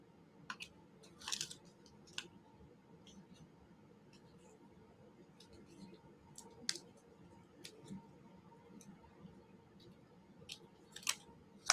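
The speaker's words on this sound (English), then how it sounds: "that actually works pretty good with the scissors" Scissors snipping paper bookmark tags at a crafting table, scattered crisp cuts with pauses between them, faint and close.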